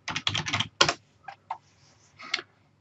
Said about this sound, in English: type in Autocrat,